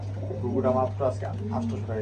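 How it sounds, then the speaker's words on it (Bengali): Dove cooing from a caged dove offered for sale at a poultry farm, a few soft repeated coos over a steady low hum, with people talking nearby. "খুব সুন্দর একজন ঘুঘু পাখি"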